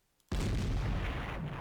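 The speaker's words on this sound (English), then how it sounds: "Love the sound of that cannon" A single deep, booming cannon shot from a tank in the strategy game Panzer Corps, an abrupt loud blast followed by a rumbling decay.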